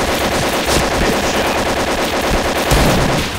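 Vandal rifle firing in the Point Blank video game, rapid sustained automatic bursts of sharp, loud, evenly spaced shots that continue for several seconds, with no voices.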